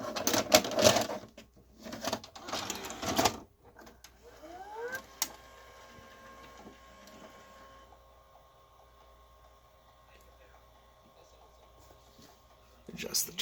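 A 1986 Panasonic PV-1060 VCR takes in a tape with mechanical clicks, clunks and a whirring load cycle, followed by a faint steady motor hum, close by.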